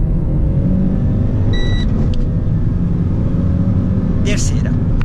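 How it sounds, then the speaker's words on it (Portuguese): Renault Sandero RS Racing Spirit under hard acceleration, a loud, steady engine and road roar heard from inside the car, with a brief electronic tone sounding partway through and a short squeak near the end. "Esse sonzinho que vocês escutaram é na verdade uma espécie de indicador de troca de marchas."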